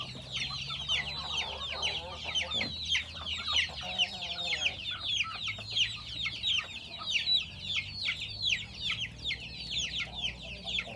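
A flock of chickens and young chicks cluck and peep steadily while pecking at leafy plants on a farm, close and busy for the whole stretch with no talking.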